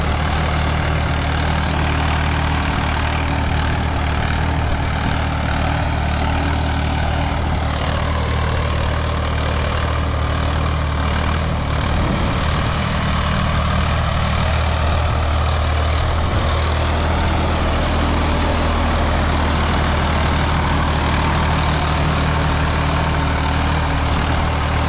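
Swaraj 855 FE tractor engine running steadily, a loud, continuous low diesel rumble with constant drone and no pauses throughout.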